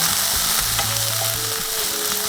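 Corned beef fries in a pan with a loud, continuous sizzle and crackle, broken by faint scraping stirs, close and steady throughout.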